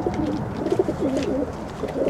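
Pet pigeons or doves cooing in a backyard pen, soft repeated low coos rolling steadily and close by, with no voices.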